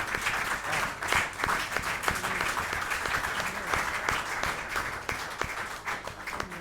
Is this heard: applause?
yes